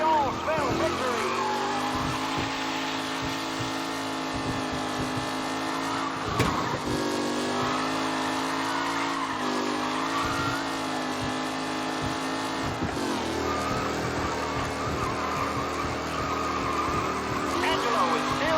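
Race cars roar through a race in the game Mafia Definitive Edition, engines droning steadily while tires squeal and skid. A commentator talks over the constant motor noise.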